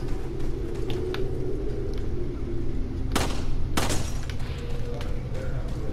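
Two loud, close gunshots ring out about half a second apart in the PS4 version of Resident Evil 4. Each has a sharp crack, over a steady hum of game ambience.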